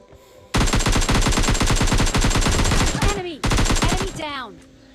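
Rapid automatic gunfire fills PUBG Mobile Lite gameplay in dense, loud bursts with sharp cracks. A short pause breaks the shooting before another burst, and falling whistling tones follow near the end.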